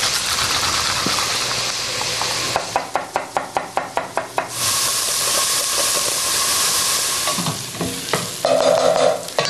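Onions and garlic sizzle steadily in a pan for pizza sauce, a constant frying hiss with a quick run of rhythmic stirring clacks partway through and scattered utensil knocks near the end.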